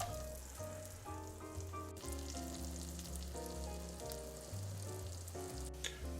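Big pieces of garlic sizzle steadily in melted butter in a pan, a constant close frying crackle with no talking, with tonal music playing underneath.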